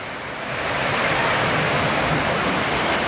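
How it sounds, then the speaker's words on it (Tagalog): A dense, loud roar of heavy rainfall swells in within the first half second and then holds steady, with no voices. "Pasok tayo, lakas ng ulan."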